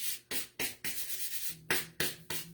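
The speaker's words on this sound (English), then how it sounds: "Then I pick up my sanding block again, grab it." Wood is being distressed with a sanding block: seven or eight short, brisk scrubbing strokes in an uneven rhythm, close up and fairly quiet, with no voices.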